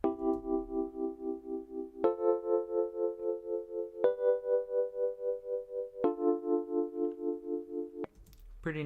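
A synth tone wobbles with volume automation in Logic Pro X, a buzzy sustained note pulsing rapidly in loudness, restarting in four two-second segments at slightly shifting pitch before cutting off.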